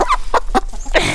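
A young hen clucks close by in a farmyard, giving a quick series of short, sharp clucks in an uneven rhythm with no talking.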